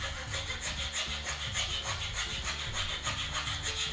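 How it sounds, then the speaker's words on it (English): Steady back-and-forth rasping of a hand file on a wooden R2-D2 replica part, close and continuous with an even rhythm. "filing down till you get it straight"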